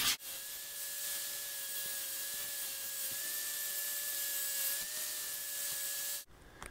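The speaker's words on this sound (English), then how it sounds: "I'm going to go back over the grinder and trim this up" Angle grinder trimming a metal plate for a shaved passenger door, a steady high whine with a strong constant tone held for about six seconds before cutting off abruptly.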